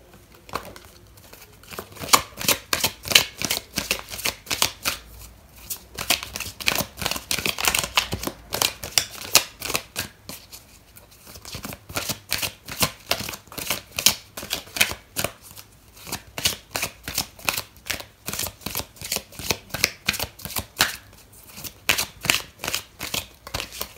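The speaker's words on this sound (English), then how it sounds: "I'm going to pull out another card for you," Tarot cards being shuffled and drawn, a long run of rapid crisp riffling and flicking in bursts with brief pauses, close and alone without speech.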